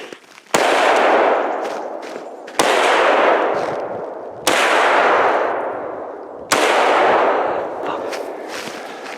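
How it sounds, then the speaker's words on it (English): Rifle shots fired at a buck while hunting in the Maine woods in snow, four loud sharp reports spaced about two seconds apart, each followed by a long fading echo. "So I emptied the magazine shooting through that."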